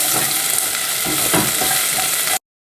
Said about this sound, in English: I have half an onion that you're gonna give like a quick little saute.